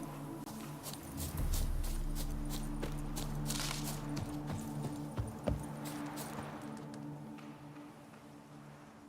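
Horse hooves in The Witcher 3 clip-clopping at a steady walking pace, close and clear over a low rumbling hum that drones on, the clatter fading toward the end.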